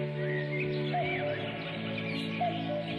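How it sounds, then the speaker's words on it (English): Birdsong fills an outdoor setting, with several birds chirping and warbling at once and a faint, repeated cuckoo-like call rising over the steady, dense chorus. "There's the cuckoo bird."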